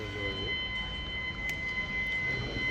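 Retractable stadium stand carts roll out during construction work at Santiago Bernabéu, a continuous low mechanical rumble with a thin, steady high whine running over it and a brief clank midway.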